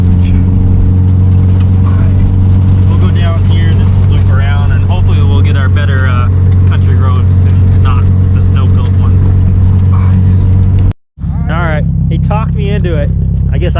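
Car driving along a snowy road, a loud steady engine drone and road rumble under continuous talking from people inside, briefly cutting out near the end before resuming.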